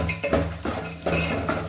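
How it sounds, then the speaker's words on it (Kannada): Curry leaves and garlic frying with peanuts in a pan, a soft sizzle under repeated scraping and clinking of a spoon against the pan in short strokes. "ಕರಿಬೇವು, ಬೆಳ್ಳುಳ್ಳಿ ಹಾಕ್ಕೊಂಡು ಫ್ರೈ ಮಾಡ್ತಾಯಿದ್ದೀನಿ."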